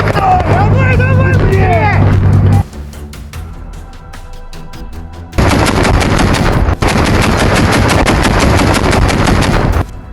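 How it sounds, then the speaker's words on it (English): BMD-2 30mm automatic cannon fire in close combat, rapid loud bursts of repeated shots in long strings, preceded by a mix of voices and engine noise. "Cover fire from the BMD-2's 30mm automatic cannons provided essential support"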